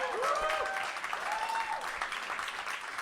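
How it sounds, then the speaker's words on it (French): Audience applause at the close of a youth talk show, sustained clapping that fades slightly, with a few voices and whoops over it. "On peut les applaudir encore une fois."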